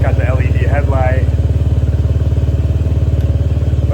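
A Honda Elite 110 scooter with a Yoshimura carbon fiber exhaust runs at a steady idle, producing a loud, even, rapid putter throughout, with someone talking briefly over it at the start.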